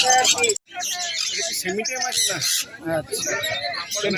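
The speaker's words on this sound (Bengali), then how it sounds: "এবার এলাম লাভ বার্ড, বিভিন্ন কালার।" Busy birdsong of many lovebirds of various colours chirping and squawking together at a pet market, close by, with a brief dropout near the start.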